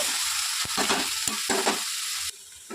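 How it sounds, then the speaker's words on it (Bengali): Taro and mixed vegetables with turmeric and salt are stirred in a frying pan, a close sizzle broken by a few distinct spatula scrapes and knocks, ending abruptly as the noise drops; no voices. "সবজিগুলো দিয়ে এই যে নেড়ে নিয়ে হলুদ লবণ দিয়ে"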